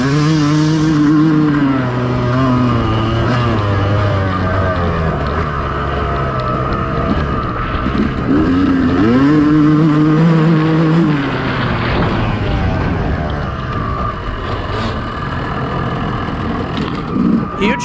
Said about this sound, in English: Let you guys enjoy that 2-stroke sound, making the quick pass.